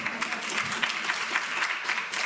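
An audience at a public health forum gives a round of applause after a panel speaker, with steady, moderately loud clapping and distinct individual claps throughout.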